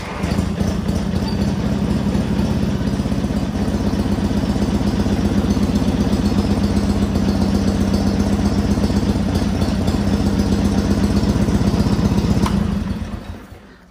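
A lawn tractor engine with an iSafe Tractors carburetor idles steadily and loudly with a constant low rumble for most of the clip, then cuts off abruptly near the end.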